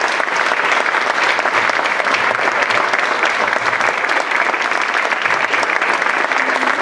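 Audience at a breast cancer conference breaks into sustained, dense applause that stays full and steady for about seven seconds, with no clear speech over it.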